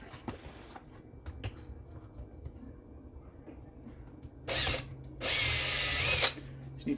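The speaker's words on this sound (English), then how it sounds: "Just need to drill that out." A power drill whirs in two short bursts, the second longer and louder, drilling out a hole in a Traxxas XRT RC truck part after several seconds of quiet workshop clatter and handling noises.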